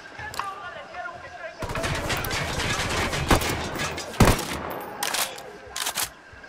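Gunfire in the Ghost Recon Wildlands video game, a Caimanes mission: bursts of shots and a few sharp louder cracks ring over continuous battle noise, with people talking throughout.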